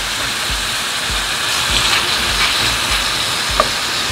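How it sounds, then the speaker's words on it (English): Marinated chicken pieces hitting a hot pan make a steady, loud hiss and sizzle that holds evenly throughout with small pops over it. "So add the chicken and let it cook until"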